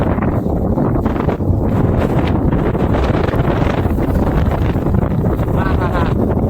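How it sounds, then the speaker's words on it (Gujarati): Strong, loud cyclone wind roaring and buffeting the microphone without letup, a dense continuous blast with faint rustling beneath. "કેવો પવન આવે છે"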